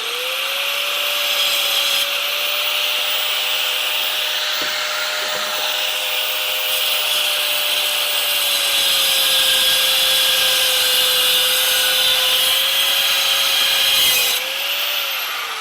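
A screwdriver shaft cut to length with a tool, giving a loud, steady, continuous grinding whine that runs unbroken for the whole stretch with only slight shifts in pitch.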